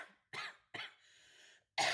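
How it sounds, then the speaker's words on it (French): A woman coughs in three sharp, close bursts, the last one loud and harsh, with a raspy breathy rattle between them. "je tousse dès que je parle ou je respire"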